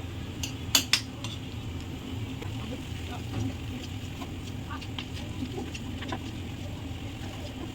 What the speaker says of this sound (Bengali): এবার আমি এই যে হাতাটা দিয়ে ডালটা ঘুটে নেব